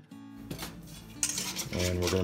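Teriyaki beef jerky marinade ingredients being combined in a bowl: a few clinks of utensils and containers, a scrape and pour, close and fairly quiet, with no talking.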